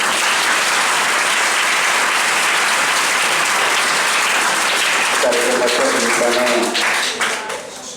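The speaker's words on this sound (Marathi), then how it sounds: "त्या माऊलीचे एकदा आपण जोरात टाळ्या वाजूया" An audience at a lecture applauding loudly, dense sustained clapping that carries on steadily before tapering off, with a voice speaking over the tail end.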